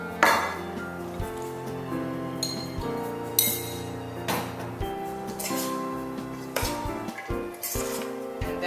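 Chopped salad with cilantro and dressing being tossed in a bowl, giving repeated clinks and knocks of a utensil against the bowl, with ringing tones and irregular taps over several seconds.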